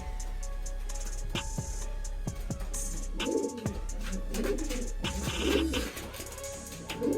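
Pigeons coo repeatedly inside a small new pigeon loft, soft throaty calls rising and falling close by, with wing flutters and light knocks mixed in over steady background hum.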